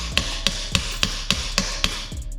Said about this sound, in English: tap that cap so it starts to go into the drive shaft there